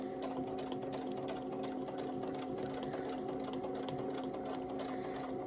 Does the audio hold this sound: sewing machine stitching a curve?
yes